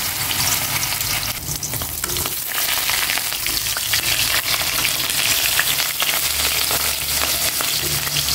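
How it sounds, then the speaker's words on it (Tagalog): Hot oil in a frying pan crackles and sizzles continuously and close up, a busy, steady spattering with no voices over it. "Mainit na itong kawaling may mantika. Magprito na ko ng"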